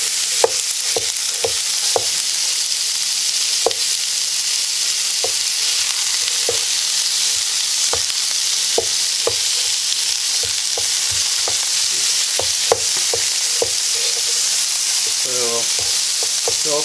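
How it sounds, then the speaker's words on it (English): Ground beef browns in a hot pan with a constant loud sizzle, broken by regular clicks and scrapes of a utensil breaking up the meat. "break up this ground beef up, and you're going to let it brown"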